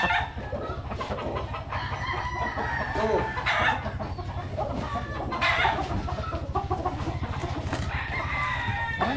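Green-legged stag roosters cluck and crow nearby in a steady stream of fowl calls over a constant low hum, with a few louder bursts standing out.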